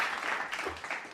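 A short burst of recorded applause is played as a sound effect during a relaxed live-streamed talk show about watches, a brief, soft clatter of clapping with no one talking over it.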